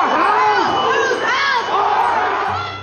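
A large crowd of rioters surges at the Capitol on January 6th, a dense, loud roar of many shouting voices with rising and falling yells, close and continuous throughout.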